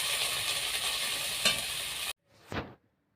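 Spices frying in a pan for a Santali-style fish dish hiss with a steady sizzle that cuts off abruptly, followed by a single short scrape of stirring.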